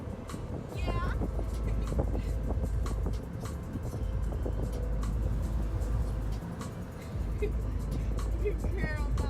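A car drives with the window down, giving continuous engine and road rumble with wind noise. Brief dips occur as it slows, and people talk over the drone.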